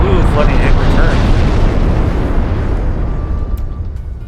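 Naval gunfire and shell hits ring out during a battleship duel in Ultimate Admirals: Dreadnoughts, with a heavy, rumbling boom that slowly dies away over several seconds.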